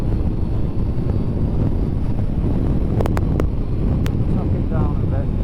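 Constant loud wind roars and buffets across the microphone while riding a Triumph Triple Street Triple motorcycle, a dense steady rush masking nearly everything, with a few faint tones poking through.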